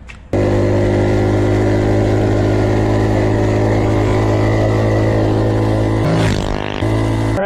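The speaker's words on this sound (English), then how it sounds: "So the CT200U mini bike did 43 miles per hour." A Coleman CT200U minibike fitted with a torque converter runs flat out at top speed, its engine a loud, steady, close drone that holds one pitch for several seconds and then dips briefly before recovering.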